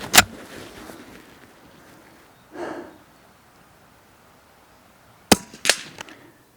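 A Blaser R8 straight-pull rifle in .22 rimfire fires a sharp crack at the start, then two more quick cracks come close together later, with a soft thud in between and quiet gaps.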